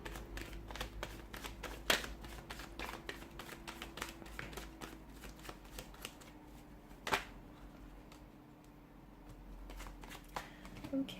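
Tarot cards are shuffled by hand in a quiet room, with repeated soft riffling and sharp card snaps and taps in an irregular rhythm, close and faint, for several seconds.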